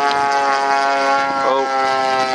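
A P-51 Mustang warbird's piston engine hums loud and steady at an airfield, a sustained harmonic drone with a brief pitch wobble midway.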